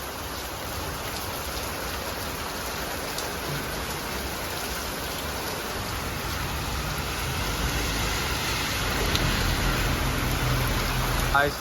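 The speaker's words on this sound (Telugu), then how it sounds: "ఫుల్ వాన అయితే కొడుతుంది" Heavy rain pours down outside during the Bathukamma festival in Telangana, a dense, steady roar of water on surfaces that swells slightly louder toward the end.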